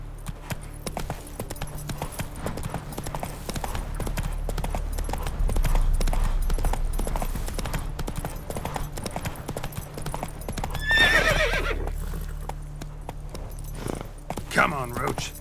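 A horse in the Witcher 3: Wild Hunt video game clip-clops at a steady gallop throughout, with a short neigh near the end over the game's background sound.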